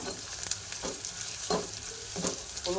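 Onions and green chillies fry in a pan with a steady, close hiss, broken by several scraping stirs at irregular intervals; no one talks.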